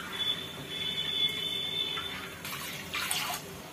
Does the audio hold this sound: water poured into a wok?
yes